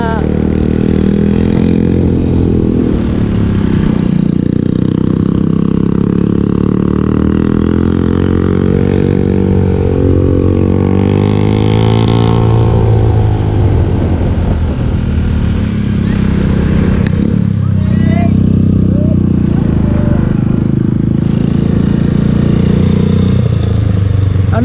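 A motorcycle rides in first gear along a winding road in Laguna, its engine droning loud and close with shifting pitch as revs rise and fall, wind noise throughout.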